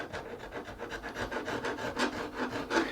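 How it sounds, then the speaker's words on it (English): A small rasp and files shape the volute of a wooden guitar neck, giving steady back-and-forth scraping strokes at a quick, even rhythm, close and moderately loud with no talking. "I'm using small rasp, small files, and make all the transitions as smooth as possible"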